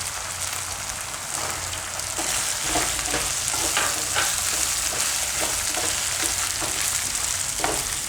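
Diced carrots added to half-cooked potatoes frying in a pan, a constant hissing sizzle like rain on a surface, punctuated by regular soft stirring taps, no speech.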